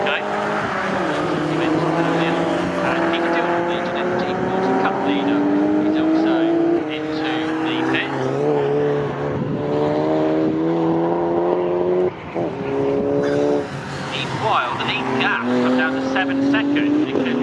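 Britcar Trophy Championship race cars circle Snetterton circuit, engines droning and whining through gear changes as several cars pass, loud and continuous, while a commentator talks over the track noise.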